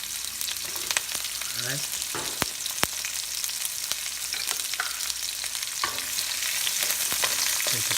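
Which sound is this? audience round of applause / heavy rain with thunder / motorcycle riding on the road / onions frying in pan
onions frying in pan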